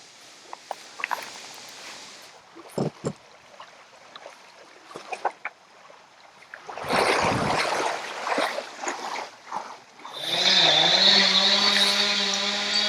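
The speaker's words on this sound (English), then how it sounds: "Knocking out some strainers with the chainsaw." A loud, sustained motor whine with strong harmonics rises near the end of the clip, after scattered knocks and water sounds: a chainsaw cutting through strainers in a small river outdoors.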